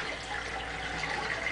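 Running water during a child's bath, a steady close hiss of flowing tap water filling the space, continuous and even with no talking.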